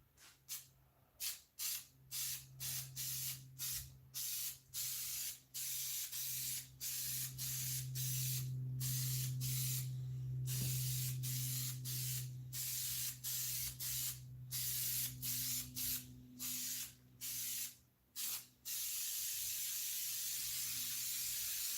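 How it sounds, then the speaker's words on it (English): An aerosol spray can of high strength 90 adhesive hisses in repeated bursts, some short and some sustained for several seconds, close and fairly loud with brief pauses between sprays. "Now, remember this high strength 90? Let's do it over the red spray paint."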